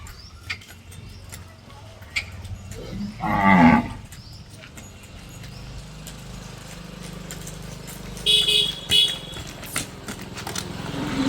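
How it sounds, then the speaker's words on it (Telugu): White and red bulls being walked at a farm sale, giving a loud low moo partway through and a couple of shorter calls later, with faint hoof clatter and background noise. "ఒకసారి ఎద్దుల్ని నడిపించే వీడియో కూడా ఈ వీడియోలో యాడ్ చేస్తాను"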